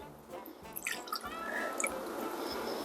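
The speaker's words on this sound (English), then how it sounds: "I'm going to pour it in a glass and then pour it back in there." Liquid pouring and dripping as tequila flows from a glass back into its bottle, a soft, continuous trickle with a few splashy drips, close and fairly quiet.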